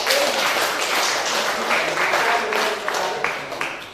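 Classroom applause for a student group after a Q&A, a fairly loud, dense patter of many hands that thins slightly toward the end.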